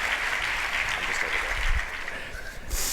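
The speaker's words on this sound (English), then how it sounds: "Can we give Peter another huge round of applause as we take a seat for question time?" A convention audience at the AMSA Convention 2018 applauds steadily, a dense wash of clapping that holds for a few seconds before beginning to thin.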